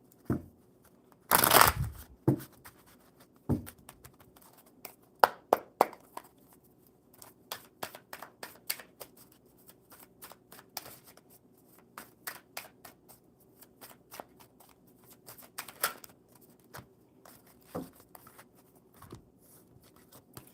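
A deck of playing cards shuffled up close, starting with one sharp riffle and followed by scattered light taps, flicks and handling sounds in a quiet room.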